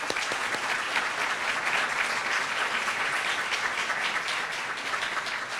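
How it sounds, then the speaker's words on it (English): Audience at an award ceremony applauding a graduate recipient, a thick continuous roar of clapping from a sizeable crowd that holds evenly throughout, loud and unbroken. "A round of applause, please"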